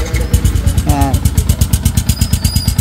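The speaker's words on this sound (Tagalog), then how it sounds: "May dala ditong motor at kala namin may problema ang makina." Sniper 150 motorcycle engine with a replaced exhaust pipe idles close by with a steady, rapid pulsing beat and a loose rattling edge, a brief whine passing partway through.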